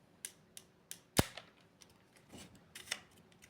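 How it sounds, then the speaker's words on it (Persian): A homemade rubber band gun fires with light, faint clicks at a steady pace, one sharp, louder snap among them, and soft rattles after. "اینجوری هم شلیک میکنه"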